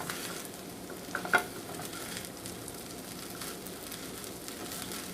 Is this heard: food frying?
yes